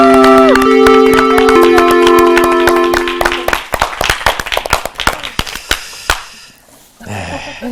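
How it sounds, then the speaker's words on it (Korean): Bursts of sharp applause fill a Bible study classroom as a teacher enters. Sustained tones and musical notes sound at first, then scattered, uneven claps crackle nearby before fading into a quieter pause. "교실에 들어가면서 박수 받는 것은 우리 성서학당밖에 없을 것 같아요."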